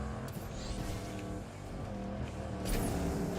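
Engine of a truck in a stunt driving video game, a loud, busy motor roar with shifting pitch and a brief burst of noise near the end, continuous with no talk over it.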